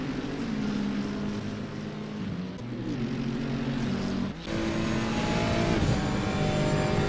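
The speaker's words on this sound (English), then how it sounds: "You can hear him almost there lifting off of the throttle" A Ferrari GT3 race car at Monza in a sim racing league drones with a steady, tonal engine note that shifts in pitch as the driver lifts off the throttle, with a brief dip before the engine roars back.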